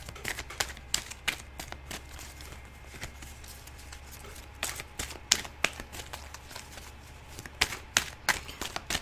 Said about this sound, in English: let's give it one last good shuffle